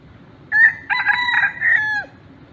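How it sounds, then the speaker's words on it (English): Rooster crowing in Singapore's gardens, one loud nearby cock-a-doodle-doo call with a short opening note and a long drawn-out tail, standing alone over quiet background. "And also I saw some more chickens."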